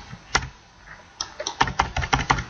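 Computer keyboard keys tapped while entering text into a web form, a single click followed by a pause, then a quicker run of close, crisp keystrokes in an uneven rhythm.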